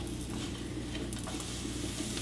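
Quiet, steady sizzling of food frying in oil, with a soft crackle and occasional stirring sounds, close by and continuous.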